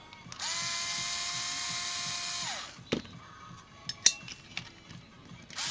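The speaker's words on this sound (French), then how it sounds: "je desserre au tournevis et je fous le truc à la visseuse, hein, direct" A cordless screwdriver whirs steadily for about two seconds as it spins out a screw on a carburetor bowl during tank cleaning, then winds down, followed by a few sharp metallic clinks and taps of parts being handled.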